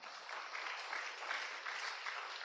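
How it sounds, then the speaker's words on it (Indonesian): A church congregation claps together in a steady, continuous wash of applause, fairly soft and distant, with no voices standing out. "Tepuk tangan buat Allah kita."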